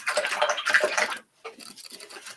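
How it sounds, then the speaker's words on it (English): A paintbrush is rinsed in a water cup while painting poppies, giving a couple of close, short swishing and sloshing bursts separated by a brief pause. "So rinse my brush a little bit."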